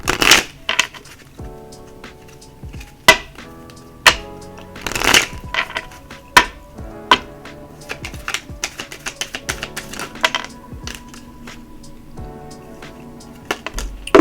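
An Alice in Wonderland oracle deck is shuffled close up for a reading, with a run of crisp riffling card flicks and soft slaps in irregular bursts, loud against a quiet background.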